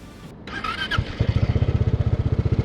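A Zontes 368E automatic scooter cranks over and fires up, settling into a steady, rhythmic idle with even low pulses from the silencer, heard close and alone.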